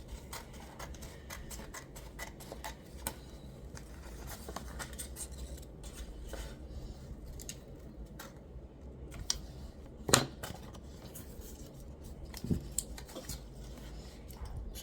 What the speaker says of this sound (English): I'm just cutting off some of the excess paper